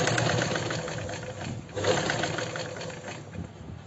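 A sewing machine runs steadily while stitching piping onto a princess-cut kurti, a close, continuous mechanical whir with a slight dip partway through.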